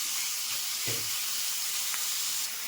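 Marinated chicken frying in a pan gives a soft, steady sizzle throughout, with a brief clunk partway through and no voices.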